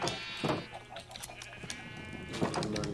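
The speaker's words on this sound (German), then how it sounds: "Mein gelbes Schaf kommt hier jetzt rein." Sheep in the video game Minecraft bleat repeatedly, several wavering calls spaced across the moment, moderately loud over faint game ambience with no talk.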